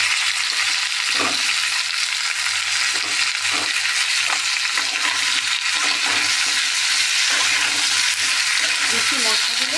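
Cumin, ginger, tomato and green chili fry in a pan with a steady, close sizzle that runs the whole time, broken by a few soft stirring scrapes.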